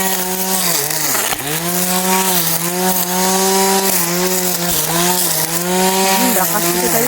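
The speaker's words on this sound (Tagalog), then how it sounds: "Although malakas po yung grass cutter natin ngayon." A powerful grass cutter runs close by at a steady, loud engine drone with a slightly wavering pitch, continuous for the whole stretch without a pause.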